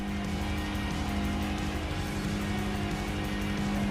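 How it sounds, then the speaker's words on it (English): Race car engine bouncing off the rev limiter in the Tokyo Xtreme Racer video game, a steady loud high-revving drone with a fixed buzzing tone held throughout. "I'm hitting the rev limiter already here"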